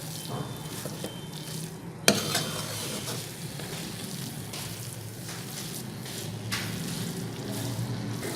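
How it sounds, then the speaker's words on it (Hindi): Grated carrots roast in sizzling ghee for gajar halwa, a steady fry hiss with a sharp clatter of a spoon against the pan and repeated scraping stirs throughout, no talk. "अब बस गाजरों को तब तक भूनें"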